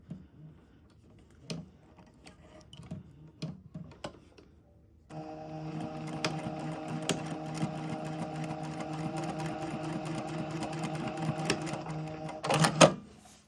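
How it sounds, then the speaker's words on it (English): A sewing machine tacks down pleats. After a few light handling taps, it runs in a continuous, close, rapid mechanical whir for about eight seconds, then stops with a clunk. "I'm going to tack down the other pleats."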